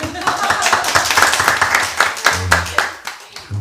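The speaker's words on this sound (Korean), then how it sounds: "박수를" A church congregation claps in applause for a pastor, giving quick uneven clapping bursts mixed with some voices in the room.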